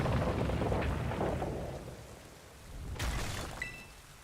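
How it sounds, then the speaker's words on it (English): Rain falling in a Pokemon Scarlet game world, a soft steady hiss with a low rumble of thunder fading in and out, fairly quiet and without talk. "It's raining."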